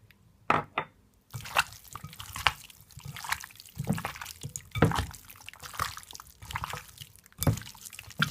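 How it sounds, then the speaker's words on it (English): Vegetable oil poured onto seasoned chicken wings in a bowl gives soft irregular drips and wet splashes, close and fairly quiet, with a few sharper spatters. "And I'm also gonna pour my vegetable oil."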